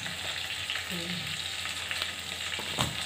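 Mango pieces frying in a spice mix for pickle in a handi, a continuous close sizzle with faint stirring scrapes and no speech.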